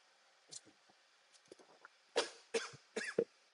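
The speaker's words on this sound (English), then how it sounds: "had a bit of a coughing fit" A few soft throat noises give way to a burst of several harsh coughs in quick succession, fairly close, with no speech.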